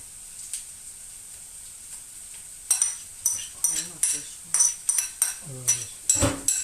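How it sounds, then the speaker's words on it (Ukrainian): A utensil scrapes and clinks against a pot while fried vegetables are stirred into rassolnik soup, a quiet lull giving way to a regular run of metallic strokes with faint talk in the background. "Зажарку мішаєш?"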